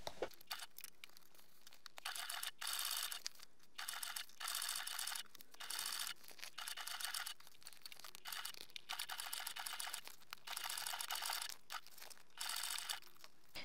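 A sewing machine with a zipper foot stitches around the curves of a toiletry bag, giving a fast rattling run that stops and restarts in short bursts, close and fairly quiet, with nobody talking.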